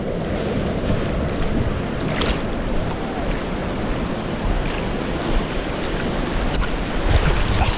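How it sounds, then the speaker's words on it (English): A big ocean wave breaks and rushes in the surf off a Bali beach, a steady loud roar of water and wind buffeting the microphone with no talk. "This is a big wave."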